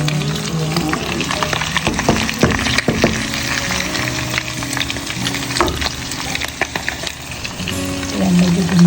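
Ginger, onion and garlic fry together in a pan for a Filipino eggplant dish with shrimp paste. A steady crackling sizzle runs throughout, broken by scraping stirs and clinks of a utensil, close and fairly loud.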